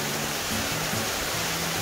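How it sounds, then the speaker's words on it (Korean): Geumgang waterfall in the Yeongnam Alps, swollen with rainwater, pours with a dense, continuous hiss and roar, steady and loud throughout. "여기가 금강폭포입니다."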